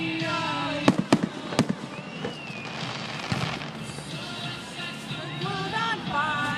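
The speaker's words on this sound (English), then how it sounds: "A lot of fireworks." Fireworks burst at a baseball game, with a few sharp loud bangs early on, then crackling and rumbling booms mixed with crowd noise and whistling tones.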